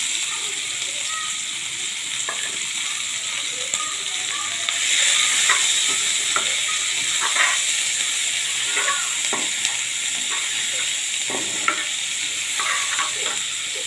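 Onion frying in hot oil with whole cumin, cardamom, cinnamon and bay leaf for a prawn curry: a steady loud sizzle and hiss throughout, swelling after the onions go in, with scattered scrapes and clicks of stirring.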